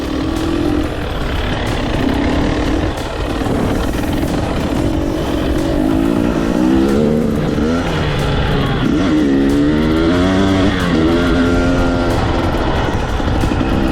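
A 2021 KTM 300 XC-W TPI dirt bike engine while riding at the Erzbergrodeo, its loud, close two-stroke drone steady throughout, the pitch rising and falling with the throttle.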